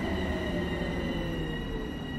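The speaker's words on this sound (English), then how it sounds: "I'll just leave this train to come to a stop by itself and jump outside" A Train Sim World 2 commuter train on the Harlem line out of New York coasts to a stop by itself, giving a steady rolling rumble with faint tonal hum and squeal, loud and continuous, no voices.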